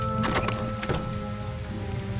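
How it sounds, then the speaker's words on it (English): Steady rain falls in the video game Dragon Quest Builders, a soft continuous hiss beneath tonal game music, with a couple of slightly louder patters early on. "Raining? Seriously?"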